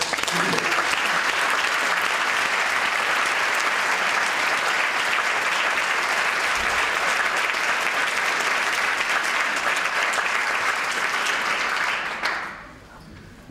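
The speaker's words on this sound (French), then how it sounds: "je voudrais en profiter pour que vous les applaudissiez bien fort" Sustained audience applause at the closing session of a 2014 conference on school bullying, a dense steady wash of many hands clapping that holds level for about twelve seconds, then quickly fades away.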